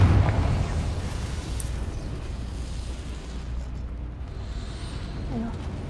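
A Confringo blasting spell explosion in Hogwarts Legacy, a deep rumbling boom that decays into a long low roar, with a voice talking faintly over it.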